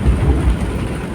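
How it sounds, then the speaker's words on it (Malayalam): Heavy rain pouring down outside, a dense loud roar with low rumbling thuds, heard briefly and without talk. "ഞങ്ങൾ ഹോസ്പിറ്റലിൽ നിന്ന് തിരിച്ചു വന്നപ്പോഴേക്കും നല്ല മഴയാണ്"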